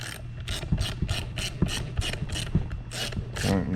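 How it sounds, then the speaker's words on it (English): A ratchet wrench tightens the hub bolts on a Onewheel+ XR, clicking in quick, regular bursts of pawl ratcheting, close and fairly loud, with no talk. "Tighten your hub bolts down."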